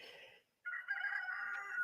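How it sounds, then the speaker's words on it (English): A rooster crows loudly and nearby, with one call breaking off, a short silence, then a longer sustained crow, with no talking over it. "Now there's another rooster getting upset."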